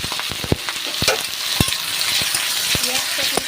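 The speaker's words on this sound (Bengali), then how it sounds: "ফোড়নটা একটু ভাজা ভাজা হয়ে গেছে, একটু নাড়াচাড়া করে নেব" Whole garam masala spices fry as a tempering in hot oil in a wok, for a thin mutton curry. The oil hisses loudly and crackles continuously up close, with sharp pops and spatula stirring scrapes.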